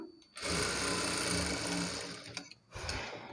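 A sewing machine runs steadily and loud while stitching a sleeve onto a blouse, holding a continuous whir for about two seconds, easing off, then starting up again briefly near the end.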